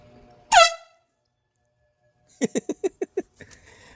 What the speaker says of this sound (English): this is what he's using for a horn right now